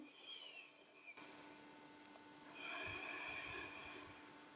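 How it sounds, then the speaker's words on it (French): Deep, calm abdominal breathing during a seated do-in head relaxation exercise: a soft, slow inhale that swells into a longer, fuller breath, faint and close, with no talking. "Puis vous inspirez calmement et profondément."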